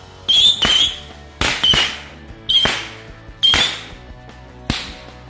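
A 50-shot firecracker string fires off five loud, sharp cracks at uneven intervals, each bang snapping out alone with brief ringing between, with no voices.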